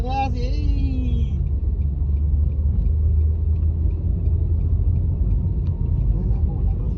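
A manual car's engine rumbles low and steady while driving and shifting into third gear, a continuous close drone with a brief voice at the start.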